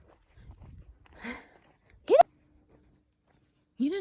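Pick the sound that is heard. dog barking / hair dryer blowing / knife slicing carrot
dog barking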